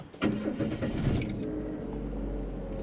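A 1989 Chevrolet Cavalier wagon engine cranks and catches, a loud close start that settles into a steady idle rumble, no talking.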